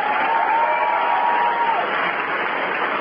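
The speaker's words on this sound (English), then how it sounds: "if I get a huge round of applause for the creators of Robot Chicken" A large convention crowd applauds and cheers for the Robot Chicken creators, a dense, loud wash of clapping that holds steady throughout.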